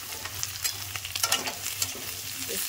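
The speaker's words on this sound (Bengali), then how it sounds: "বেগুনটাকে আমি হালকা করে 2 থেকে 4 মিনিটের জন্য নেড়ে নেব" Eggplant and potatoes fry in a pan for a cabbage-and-shrimp dish, with a steady close sizzle broken by a few scraping stir strokes and clinks, and no talk.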